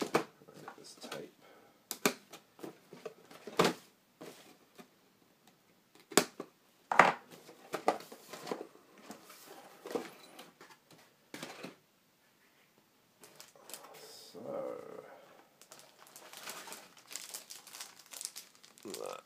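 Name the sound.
tape being pulled off model kit packaging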